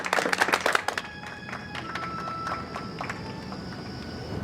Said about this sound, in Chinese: 那为咱们鼓掌